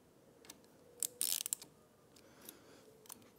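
A ratchet tightens handlebar bolts on a 2024 Triumph Speed Twin 1200 during a cafe handlebar install, a few quick quiet clicking bursts with a brief louder run of ratchet clicks near the start.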